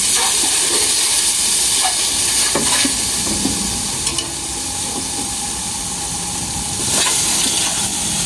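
Veal sizzles and fries steadily in a pan, a continuous bright hiss with occasional crackles and stirring scrapes, close and fairly loud, no voices.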